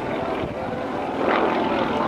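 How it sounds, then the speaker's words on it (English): An aerobatic propeller airplane flown at a naval air station airshow, pulling up from about 1,000 feet. A continuous droning engine hum is heard at a distance, swelling slightly in pitch and loudness toward the end. "watch as John pulls up."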